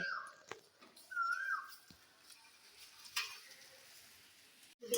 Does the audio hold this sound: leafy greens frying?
yes